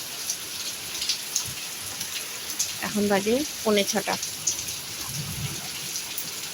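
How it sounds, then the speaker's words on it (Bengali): Heavy evening rain pouring steadily, a dense even hiss around a parked car, with a person speaking briefly over it. "এত জোর বৃষ্টি নামছে আমাদের গাড়িটা দাঁড়িয়ে রয়েছে বৃষ্টির মধ্যে"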